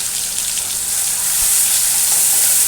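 Onion, tomato and green chilli paste sizzles in hot oil in a pan, a loud, continuous frying hiss that swells slightly toward the end.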